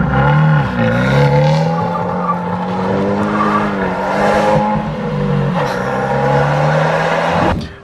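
An Abarth 124 GT roadster with a 170 hp engine driving through a countryside setting, its engine droning loudly and shifting pitch as it revs and changes gear, with a tire squeal near the end.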